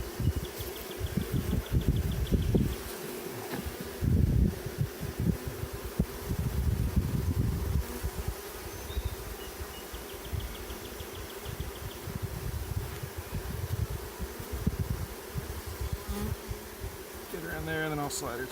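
Dense, steady buzzing of honey bees at an open hive, close and continuous throughout, with occasional rustling and a low hum beneath.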